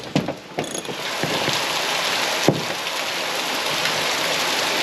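Ratchet wrench snugging up screws on WeatherTech mud flaps being fitted to a vehicle, a few sharp clicking bursts near the start and one more midway, over a steady background hiss.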